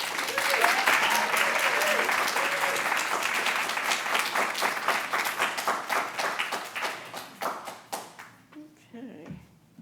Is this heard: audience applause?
yes